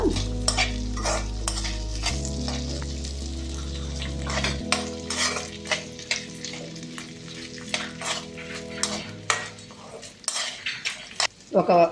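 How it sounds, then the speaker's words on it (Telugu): Green peas fry in a pan for a potato-brinjal curry, a soft sizzle under repeated scraping and clinking of a spoon stirring against the metal, with a low hum in the background. "బఠానీ వేసిన తర్వాత వేయించడం"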